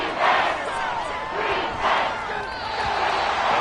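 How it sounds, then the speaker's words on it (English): An American football stadium crowd roars at a Texans game, a dense surging wall of cheering voices that swells and ebbs in waves, loud and sustained. "This crowd turning up the decibel level."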